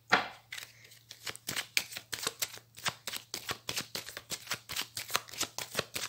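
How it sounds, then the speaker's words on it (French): A tarot card deck is shuffled and cut in a series of quick riffling bursts, repeated crisp card flutters at a steady rhythm, close and moderately loud with a faint low hum beneath. "je vais faire une coupe avec le tarot que j'utilise lors des consultations pour les Gémeaux"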